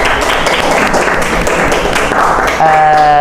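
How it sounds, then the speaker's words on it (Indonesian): A classroom of students claps together in a brisk, loud, steady round of applause that carries on for a few seconds, with a tonal sound cutting in near the end. "Kita beri tepuk tangan."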